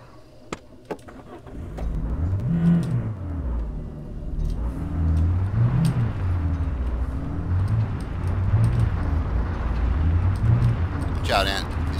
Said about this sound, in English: I hear a car, John.